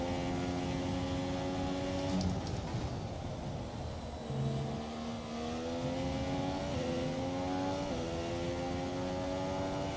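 Formula 1 race car engine in the F1 2017 racing game, set at Bahrain, a loud steady high-pitched whine rising and dropping through gear shifts, running continuously with no speech.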